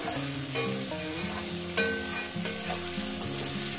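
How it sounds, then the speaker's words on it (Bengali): Onions and potatoes sizzle steadily in hot oil with a continuous crackle, while a melodic tune plays underneath. "এই পেঁয়াজগুলোর সঙ্গে আমি আলুগুলো দিয়ে দিলাম, যেটা একসঙ্গে ভাজাটা হবে।"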